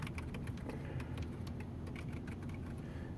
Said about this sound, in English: type in the service's name